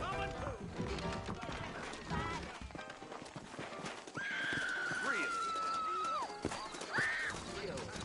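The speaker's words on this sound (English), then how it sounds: "I got the horses saddled up and ready out front." Horses in the Red Dead Redemption video game whinny and clop their hooves, a long sustained neigh standing out over game music and ambient noise, with a second shorter whinny following and characters talking throughout.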